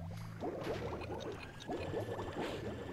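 Waterfalls in the platform game Crash Bandicoot 3: Warped, a churning, bubbling rush of water mixed with game music, moderately loud and continuous, with no voices.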